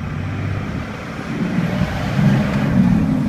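Cummins diesel truck with a six-speed gearbox accelerating through the gears, heard as a low steady engine rumble and road noise that swells slightly toward the end, fairly loud and close, with no one talking.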